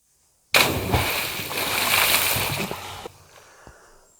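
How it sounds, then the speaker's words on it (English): A big water splash as a classic car drives through deep water, a loud, sustained rush of spray for about two and a half seconds, then dropping to quieter trickling and dripping. "that was a nice big splash"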